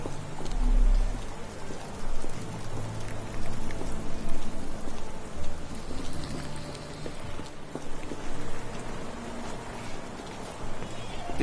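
Steady rain falls in the Victorian London setting of the game Sherlock Holmes The Awakened, a constant patter that runs the whole time, with occasional hoof clops beneath it and characters talking.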